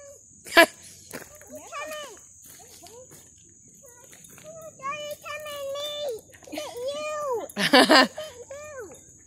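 An excited dog on a park trail whines and yelps in high, rising and falling cries, mixed with voices talking close by and a few sharp bumps.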